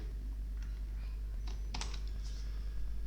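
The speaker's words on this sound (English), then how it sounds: "I'm going to press keys on the MIDI keyboard, and those are going to generate MIDI messages" Plastic keys on a MIDI keyboard being pressed, a few faint scattered clicks and taps over a steady low hum, with no talking.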